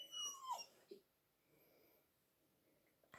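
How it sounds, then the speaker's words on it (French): A pet dog yawning indoors, a brief squeaky whine that rises and falls, then a soft breathy tail-off, quiet and close. "Le bruit que vous avez entendu, c'est elle baille."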